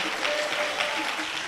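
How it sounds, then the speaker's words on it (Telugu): A church congregation claps in steady, dense applause at a second-anniversary celebration service, filling the whole moment at an even, sustained level. "దాన్ని బట్టి ఈ యొక్క 2వ వత్సరాన్ని చప్పట్లు కొట్టి ప్రభుని స్తుతించండి"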